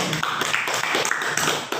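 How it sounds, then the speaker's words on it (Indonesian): Students in a classroom clap their hands together in a brief, dense burst of rapid claps, fairly loud and close, with no voices over it. "Oke, tepuk tangan dulu."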